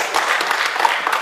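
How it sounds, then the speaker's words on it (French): Steady, dense applause from a crowd welcoming a player at a Paris football tournament, an even wash of clapping with faint voices mixed in. "On peut applaudir, s'il vous plaît, on peut applaudir"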